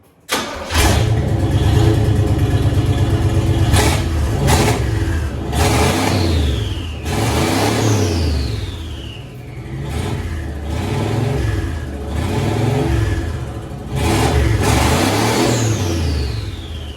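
A turbocharged car engine, not building enough boost, revs repeatedly in rising and falling surges, loud and close, with brief high whistling sweeps between revs and no talking.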